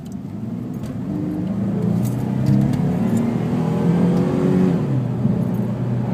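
A Jeep Liberty with a 3.7-liter V6 accelerates from inside the cabin, engine drone rising steadily in pitch and loudness, holding a sustained roar, then easing slightly at the end.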